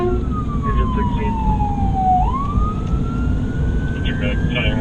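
A fire engine siren wails as the vehicle responds to a medical call, one long sweep falling then rising again, loud and steady over continuous road and engine noise.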